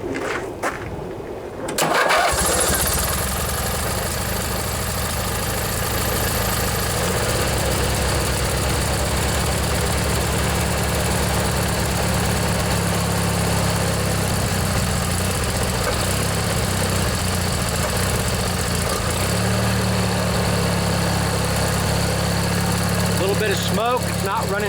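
An old Briggs and Stratton twin-cylinder flathead engine on a riding lawnmower cranks briefly and catches, then settles into a steady, loud, low idle that runs close by for the rest of the stretch.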